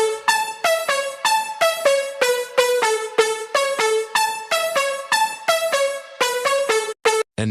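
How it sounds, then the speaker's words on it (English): Bright synth melody from a piano house track, built from plucky repeated notes in a bouncy rhythmic pattern, steady and prominent with no other instruments. "After that we have the synth melody"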